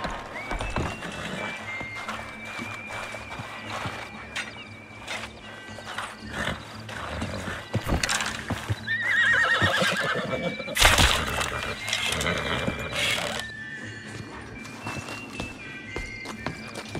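A horse neighs and whinnies in a video game, with hoof clip-clops and footsteps around it. The loudest whinnying bursts come in the middle.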